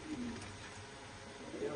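A domestic tournament pigeon coos softly and briefly, sounding faint and close, with a voice nearby.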